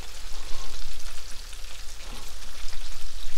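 Food frying in a pan with a sprinkle of garlic powder, a steady dense sizzle and crackle close up, loud and continuous with no voices.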